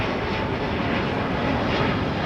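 A Cathay Pacific Airbus A350-900 at London Heathrow gives a steady, broadband jet roar that holds evenly for a couple of seconds, loud and continuous with no voices.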